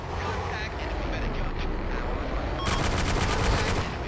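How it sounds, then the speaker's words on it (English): Gunfire in the video game Arma 2, a rapid burst of shots rising late in the clip over a constant rumble of vehicle or game ambience, fairly loud and dense. "Who's he shooting at?"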